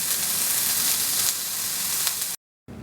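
Steak sizzles steadily while cooking in a Ninja cooker, a loud continuous frying hiss that cuts out briefly near the end before resuming.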